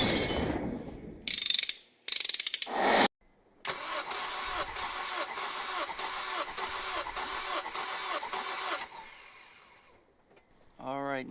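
Boosted Honda Civic engine cranking on the starter during a cold-motor wet compression test, with clicks and clatter, then a steady, even whirring crank for about five seconds that fades out.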